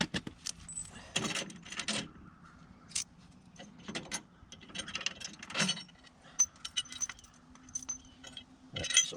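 Small hardware for a Harbor Freight Predator wood chipper/shredder, including nylon nuts, flat washers and lock washers, clinks and jingles up close as it is handled, in scattered bursts of sharp metallic taps with quiet gaps between.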